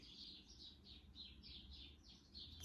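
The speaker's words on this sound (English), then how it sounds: "There are a ton of birds outside just having a party." Many birds chirping outdoors, with quick repeated high tweets overlapping in a steady stream, faint and distant over low background noise.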